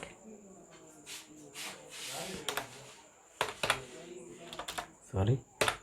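Someone types a web address on a computer keyboard, producing scattered key taps and a few clustered clicks, fairly faint, mixed with a person talking.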